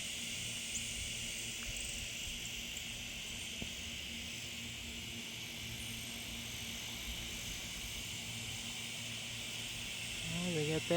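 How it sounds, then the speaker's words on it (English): Cicadas buzzing on a quiet late-morning sky check, a steady high, continuous drone filling the background throughout with no break. "Except for the cicadas."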